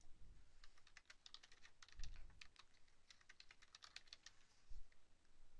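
Computer keyboard typing as a description is entered into a planned maintenance work order, with steady quick keystrokes clicking in rapid bursts, fairly close and alone, with no voices.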